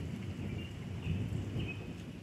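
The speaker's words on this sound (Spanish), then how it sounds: "Espero yo que pare pronto la lluvia porque tengo cosas que hacer" Steady rain falling, a dense low rumbling wash with soft patter, continuous and fairly close, no voices.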